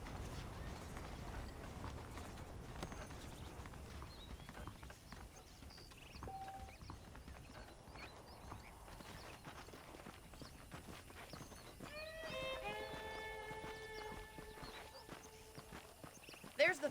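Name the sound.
horses' hooves clip-clopping in video game Red Dead Redemption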